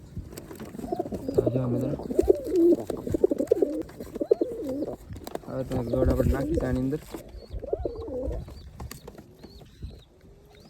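A pair of pigeons coo repeatedly inside a box, their soft rolling calls close by while someone talks over much of it, with some scuffling and wing movement.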